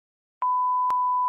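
A single steady electronic answering-machine tone starts abruptly and holds, with a brief click partway through, alone with no voices, just before a listener's voicemail plays.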